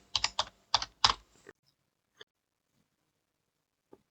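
Someone types in quick bursts on a computer keyboard while working in MATLAB. A short run of close, crisp keystrokes is followed by a couple of isolated taps spread across a quiet pause.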